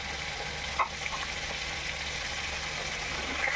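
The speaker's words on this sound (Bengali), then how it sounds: "ঝোল ফুটে উঠেছে" Fish curry broth bubbles in a pan with a steady, close sizzling hiss and faint stirring noises, continuous and fairly quiet, with no one speaking.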